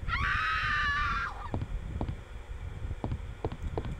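A loud, shrill stock human scream sound effect in Resident Evil 2, with a falling pitch lasting about a second and a half, followed by scattered clicks and low rumbling ambience.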